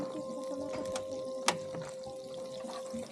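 Tap water runs steadily at a campsite at Golden Ears, a soft continuous trickle with a faint steady tone and one brief sharp knock midway, close by and without talk.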